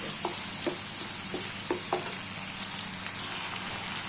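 Ginger and garlic fry in a pan with a steady soft sizzle while a spoon stirs them, giving several light scraping taps over the hiss, close and fairly quiet.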